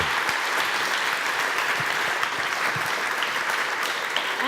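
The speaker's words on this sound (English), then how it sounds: "a big applause for you" Audience applause at the close of a panel discussion at the ÖFIT 2018 salon, steady dense clapping from a seated crowd throughout, loud and sustained with no letup.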